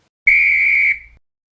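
A dog-recall whistle gives a single loud, steady, close blast of just under a second, tapering off quickly at the end.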